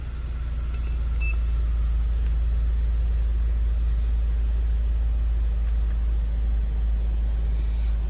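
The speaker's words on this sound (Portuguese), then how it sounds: "Vou funcionar o veículo, certo?" A Chevrolet engine, one of the Onix, Prisma, Spin or Cobalt models with a crankshaft position sensor fault, idles in a steady, continuous low rumble, close by, with two short electronic beeps near the start and no talking.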